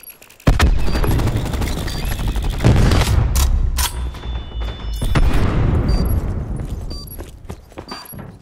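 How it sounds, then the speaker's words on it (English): Cluster grenade thrown in Call of Duty Black Ops 4 during Search and Destroy: a sudden loud blast followed by a string of rolling booms and crackling secondary explosions over several seconds, amid gunfire-like bursts. "Throwing cluster grenade."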